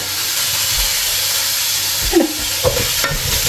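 Tomatoes go into a hot frying pan for biryani, giving a steady sizzling hiss with a few soft scraping clicks from stirring near the end.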